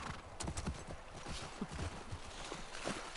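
Horse hooves in the video game The Last of Us Part II clip-clop in a quick, irregular walking rhythm, fairly close and moderately loud.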